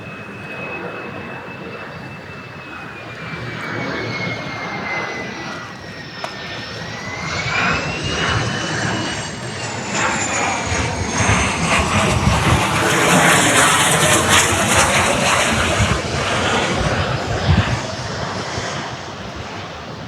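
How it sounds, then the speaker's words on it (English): A jet airliner flies over the redeveloped Royal Docks in London, a loud continuous roar that swells and peaks as it passes overhead, with a rising and falling whine on top, heard without talk. "we've got another plane"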